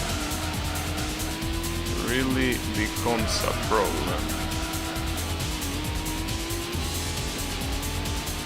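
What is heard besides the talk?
fast car driving and cornering in Gran Turismo video game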